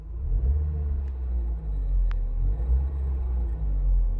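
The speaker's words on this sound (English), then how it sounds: "Wow, revs are really smooth." An Audi TT engine hums smoothly at close range, with gentle rises in revs over a steady low rumble and a couple of faint clicks.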